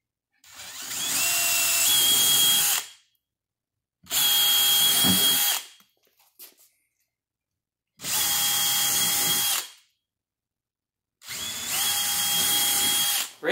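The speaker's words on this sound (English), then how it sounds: "you'll drill out each one of these." Power drill boring out pre-marked holes in an AeroBox pickup truck bed storage box for tie-down rings, four separate steady high-pitched whirring bursts of about two seconds each, separated by short silences.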